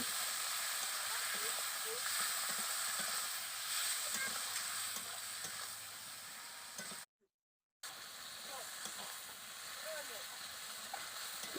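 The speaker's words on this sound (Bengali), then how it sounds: "দিয়ে দিলাম হলুদ গুঁড়ো আর দিয়ে দেব স্বাদ মতন নুন আর টমেটো কুচি তো সব একসঙ্গে আমি কষে নেব" Chicken frying with turmeric, salt and chopped tomato for Bengali chicken kosha, a steady, fairly faint sizzle and hiss with light stirring that drops out briefly partway through.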